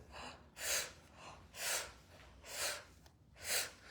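Heavy holotropic breathing: four forceful, evenly spaced breaths, each a loud rushing exhale about a second apart, with softer inhales between them, close and alone.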